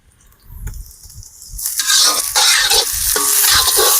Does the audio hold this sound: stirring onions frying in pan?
yes